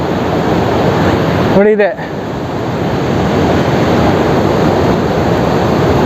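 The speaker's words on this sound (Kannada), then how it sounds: "ನೋಡಿ, ಹರಿಯ ನದಿಗೆ ಚೆಕ್ ಡ್ಯಾಮ್ ಕಟ್ಟಿದ್ದಾರೆ. ಇದೇ ಒಂದು ವಾಟರ್ ಫಾಲ್ಸ್ ಥರ ನಡೀತಿದೆ." River water pours over a check dam like a waterfall, a loud, continuous broadband roar with a short spoken interjection near the start.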